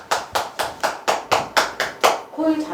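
Clapping hands in a quick, even rhythm, about nine crisp claps close to the microphone, followed by a brief voice at the very end.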